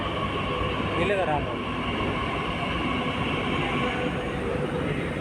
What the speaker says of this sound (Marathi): आता हे बघा तिथून मेट्रो आली आणि आता आम्ही ह्या मेट्रोवर बसून जायला आता रामवाडी